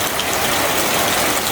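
Rain pours down on a backyard vegetable garden in a dense, even hiss that stays steady and close throughout, with no voices.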